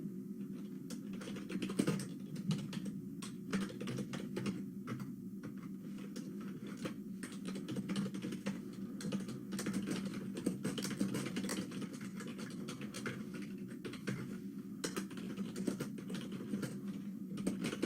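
Computer keyboard typing while code is written, a steady run of quick, close clicks and taps with brief pauses, fairly quiet and continuing throughout with no talking.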